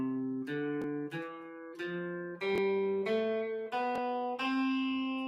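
A guitar plays a slow sequence of single plucked notes, each ringing briefly before the next, in a clear stepwise run with no talking.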